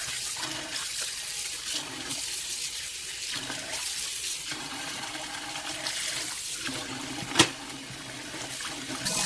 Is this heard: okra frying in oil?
no